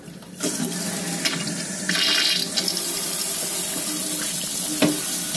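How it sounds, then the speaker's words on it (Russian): Steady rush of water pouring from a kitchen tap, continuous and close, with a few brief clicks and knocks of handling over the flow. "В этом положении вода течет только через кран, то есть через шланг."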